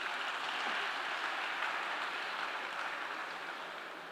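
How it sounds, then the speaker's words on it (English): Faint, distant applause from a conference audience, an even, hissy spread of clapping that holds steady and tapers slightly toward the end. "Can we have a huge round of applause for all of them"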